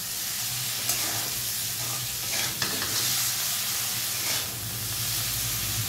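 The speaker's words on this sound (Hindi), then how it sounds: "अभी से अच्छी तरह मिलाऊंगी।" Spiced elephant foot yam with turmeric and coriander powder being stirred in a hot pan: a continuous sizzle and hiss with scraping strokes of the spoon throughout.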